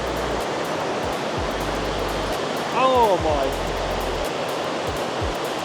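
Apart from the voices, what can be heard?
loud rushing water, waterfall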